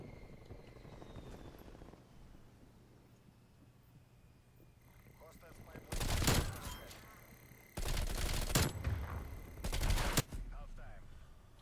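The Bullfrog submachine gun in Black Ops Cold War fires in three loud, sustained automatic bursts over a low droning background, with someone talking quietly before the shooting.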